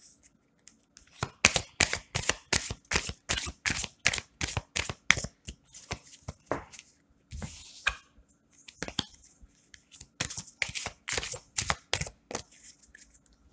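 Tarot cards are shuffled and drawn by hand, giving a fast run of crisp, close riffling snaps and flicks that continues in uneven bursts with short gaps.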